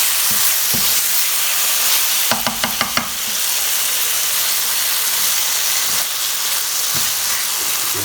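Vegetables fry in a non-stick pan for a chickpea and potato curry, giving a steady close sizzle with a brief cluster of sharp knocks partway through and a few softer taps later.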